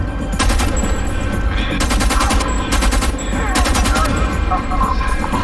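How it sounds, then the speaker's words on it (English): Loud, sustained automatic gunfire from the player's weapon in the video game Homefront: The Revolution, rapid bursts repeating almost without pause through the whole stretch, close and dominant. "They spotted me because I'm shooting at them."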